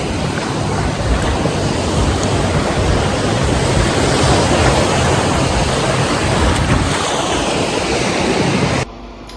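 Ocean surf at a Cancun beach rushes loudly and continuously nearby, a dense wash of breaking waves that cuts off abruptly near the end.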